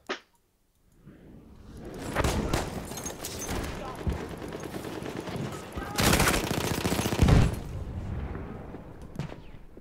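Sustained heavy gunfire and explosive blasts in the video game Battlefield 1, with loud continuous volleys and booming peaks throughout, while voices talk underneath.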